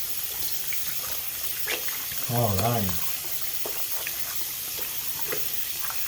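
Tap water runs steadily from a faucet while hands are rinsed at a sink, a faint continuous splash beneath a spoken instruction.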